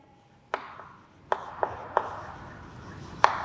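A hand writes a quadratic equation, giving a few distinct sharp taps and scratchy strokes of a pen or chalk, close and clear over a quiet background.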